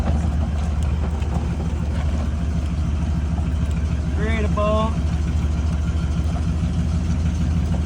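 A truck engine idles steadily with a low, continuous rumble on a snowy morning while it thaws a frosted windshield; someone talks over it close by.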